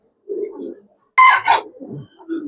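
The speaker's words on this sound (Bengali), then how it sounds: "কি কবুতর? লাল পাত্তি কবুতর" Lal Patti pigeons coo in short soft bursts, close by, with brief pauses between the calls and no talking.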